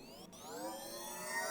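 A sci-fi synth sweep like an energy shield recharging, bright tones gliding upward in pitch and swelling slightly in loudness, smooth and sustained with a brief dropout near the start, no voices.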